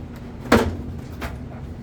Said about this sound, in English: I'm going to open the box